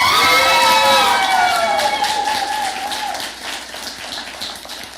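Cheers and whoops ring out over sustained applause from a graduation ceremony crowd, loud at first and gradually thinning into scattered clapping as the noise fades.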